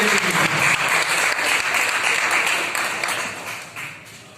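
Audience at a Mission Vande Matram Foundation event claps loudly to welcome a guest, a dense, even burst of applause that thins and fades toward the end.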